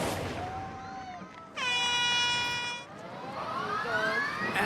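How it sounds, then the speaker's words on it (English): A Rolls-Royce aeroplane engine powering the Dizzy Dummy ride on a game-show obstacle course lets out a loud, rising high-pitched whine that holds steady for over a second, with other tonal sweeps before and after. "That high-pitched whine you can hear isn't the contestants. It's the Rolls-Royce aeroplane engine that powers the Dizzy Dummy"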